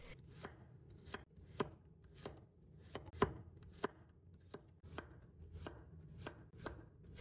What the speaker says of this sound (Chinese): 再准备1把大蒜，把它切成小块。